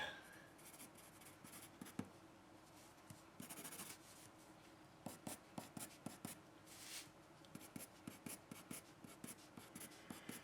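Palomino HB graphite pencil writing on paper, soft scratchy strokes with a series of short rhythmic taps and scrapes, quiet and close, with no talk over it.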